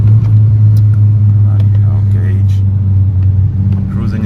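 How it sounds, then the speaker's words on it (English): A 2000s-era Audi S3 8L cruising in second gear at normal speed, its engine a steady loud low drone with road rumble throughout, while a person talks over it. "I'm just cruising in second gear, just going normal speed on all sides."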